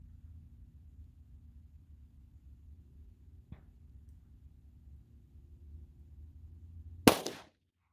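A 9mm Speer Gold Dot round fired from a short-barrel pistol gives one sharp, loud outdoor report near the end, preceded by a faint click amid low background rumble.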